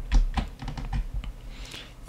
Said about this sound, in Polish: klikamy Ctrl-M